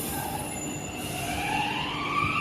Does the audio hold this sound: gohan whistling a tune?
no